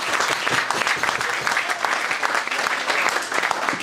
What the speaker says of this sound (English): Round of applause for Paul.